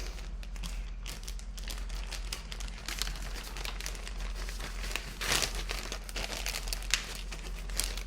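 Steady, close crinkling and crumpling of material, a continuous rustle with a few louder crackles, heard alone without talk.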